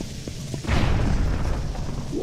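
Bomb exploding in the video game Zelda Twilight Princess, a deep rumbling boom that bursts after a couple of small clicks and rolls on to the end.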